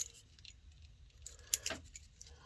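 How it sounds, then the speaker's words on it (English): A handful of old keys jangle faintly and close by, with light metallic clinks building to a brief cluster of rattles near the middle. "But there's more old keys there."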